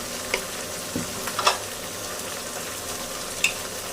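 Spices, including turmeric added after ginger and garlic, are stirred in a hot pan, giving a soft, steady sizzle with a few light utensil taps and scrapes against the pan.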